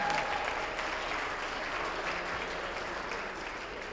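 Crowd applause honors United High School legends at the 2023 United ISD League of Legends event. It is a steady, dense wash of clapping that holds throughout and eases slightly toward the end.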